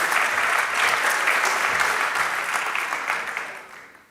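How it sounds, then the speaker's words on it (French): Dense audience applause during a round-table talk holds steady and fairly loud, then tapers off toward the end, with no voices over it. "On pouvait aussi applaudir Marie-Angèle Aubin quand même."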